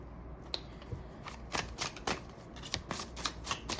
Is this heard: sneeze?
no